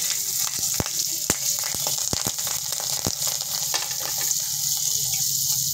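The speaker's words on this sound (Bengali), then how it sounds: "এখন আমি এই তেলটার মধ্যেই কালো জিরে আর 2টো কাঁচা লঙ্কা দিয়ে দিলাম।" Black cumin seeds and two green chillies sizzle in hot frying oil, a steady close hiss dotted with sharp crackles and pops, with no voices.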